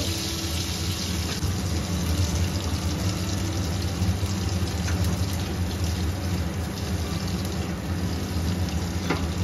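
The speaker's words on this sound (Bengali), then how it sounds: "জল দিয়ে দেব।" Water pours into a pan of fish curry in a kitchen as a continuous, dense rushing wash that stays at an even level from start to finish.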